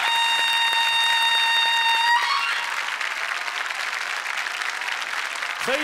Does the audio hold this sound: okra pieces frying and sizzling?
no